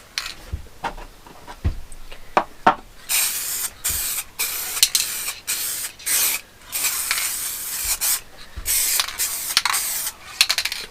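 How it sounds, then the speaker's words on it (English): Cellulose lacquer sprays in repeated short hissing bursts onto pen blanks, with sharp knocks and brief pauses between passes, close and alone without talk. "So I just use a cellulose lacquer there."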